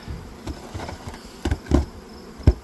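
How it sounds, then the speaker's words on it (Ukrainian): Bees buzzing in short bursts close by, a few louder passes standing out over a quiet background. "Тут і бджола є, і на дворі є бджола."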